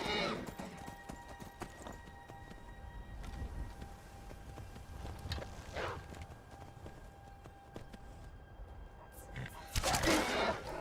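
Rhythmic hoof clip-clop of a galloping horse in the video game The Elder Scrolls V: Skyrim runs through most of the stretch, with a few brief louder bursts and a low ambient hum beneath.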